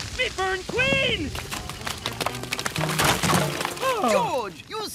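Cartoon crash as someone is smashed into a termite mound in a jungle scene: a sharp shattering crack mid-clip amid busy music and effects, with animated voices talking and exclaiming throughout.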